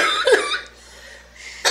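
A woman gives a couple of short coughs close to the mic, one burst at the start and another at the end with a quiet pause between.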